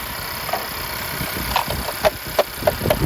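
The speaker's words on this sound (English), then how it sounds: "let's start the engine, see how it sounds." A 2015 Honda Accord Sport engine runs at idle after a spark plug replacement, a steady close hum broken by a few soft ticking clicks.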